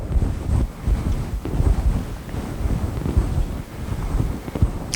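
Along the present-day Salinas river, wind buffets the microphone in heavy, rumbling gusts, and no frog calls can be picked out anywhere in the roar.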